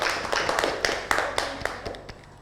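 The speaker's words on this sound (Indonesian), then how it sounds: "Beri tepuk tangan untuk teman-teman kalian yang sudah berpendapat dan juga bertanya." Students in a classroom give a round of applause, a brief patter of a handful of claps at an uneven rhythm that thins out toward the end.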